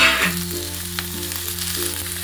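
Vegetables for a Kerala-style stew, including carrot, potato, beans, peas, green chillies and curry leaves, hit a hot pan with a burst of sizzling that settles into steady close frying.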